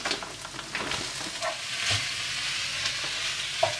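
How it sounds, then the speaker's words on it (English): Lamb keema mince frying in a pan, a steady close sizzle with occasional stirring scrapes and soft pops, no talk. "And then just fry that off until turning brown."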